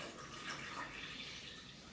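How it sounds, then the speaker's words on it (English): 650 grams of water pours into a sourdough bread mix, a steady soft splashing rush of liquid that runs continuously at a quiet, even level. "So to that, like I say, the 650 grams of water,"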